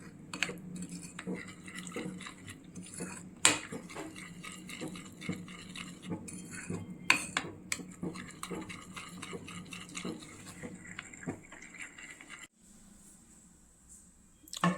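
Mango-flavoured ice cream premix stirred into milk in a pot, a spoon clinking steadily against the metal with soft liquid swishing at close range, pausing briefly near the end.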